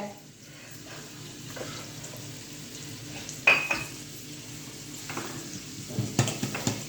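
Gooseberry pickle is stirred in a pan over a medium-high flame, with soft sizzling and a few sharp clinks of the spoon against the pan, under quiet talk.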